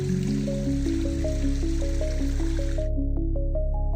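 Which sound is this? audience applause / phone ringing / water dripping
water dripping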